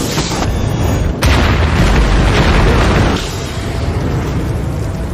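A boat explodes in a loud, roaring blast that rumbles on with a dense, crackling burst that swells, then settles into a sustained heavy roar of fire.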